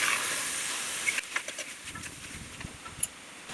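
Spiced chicken pieces hit hot oil for the Palakkad ash gourd and meat dish, giving a bright hiss that dies down after about a second into scattered pops and crackles.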